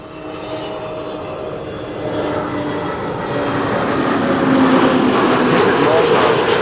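An airliner at Schiphol airport gives a loud, steady engine roar that swells as it draws nearer, building into a broad rumbling rush.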